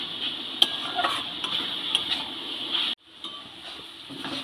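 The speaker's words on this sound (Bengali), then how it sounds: "আবারও একবার নেড়ে নেব" Amla (Indian gooseberry) preserve is stirred in a pan with a utensil, giving quiet scraping and clinking over a faint hiss, cut off by a short pause near the end.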